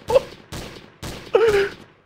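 Gunfire in the Trouble in Terrorist Town game, four sharp shots spaced about half a second apart, loud and close, the last one followed by a short groaning voice.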